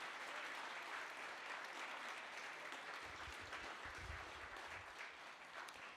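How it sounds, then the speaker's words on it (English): Applause from an event audience for a speaker, a dense, steady wash of clapping that holds at a fairly low level across the whole stretch. "Let's give another round of applause for Corey DeAngelis."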